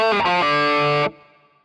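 Bar 4 of a song on distorted electric guitar at full tempo: a fast burst of a few notes ending in a held tone that stops abruptly, with a faint ring after.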